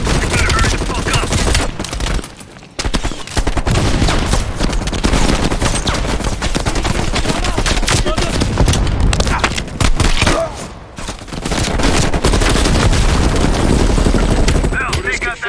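Heavy machine gun fire in a Call of Duty Black Ops Cold War battle, dense continuous bursts and booms mixed with game music and effects, loud throughout with a short lull near the three-second mark.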